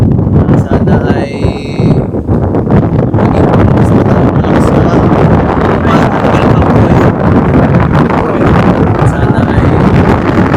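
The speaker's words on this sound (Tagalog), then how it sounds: "Grabe ang hangin po dito." Loud, constant wind buffets the microphone, roaring without letup; a voice calls out briefly early on beneath the gusts.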